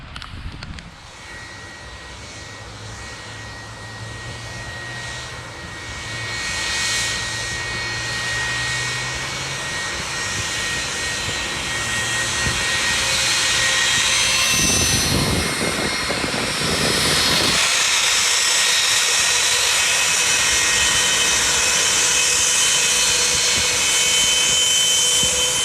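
A jet airliner passes low over Maho Beach in St Maarten on a wet day, its loud engine roar building and holding steady over the last half as beach crowd noise and wind mix underneath.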